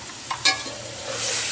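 Ginger garlic paste hits the hot pot with a quick sizzle and a couple of spoon scrapes, then settles into a steady, close frying hiss over a short moment.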